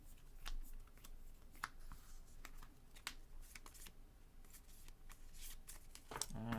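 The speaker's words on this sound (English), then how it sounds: "I'll shuffle." A deck of Magic: The Gathering cards is shuffled at a tabletop tournament: quiet, close riffles and crisp card snaps repeat in quick bursts, with faint background noise and a brief thump near the end.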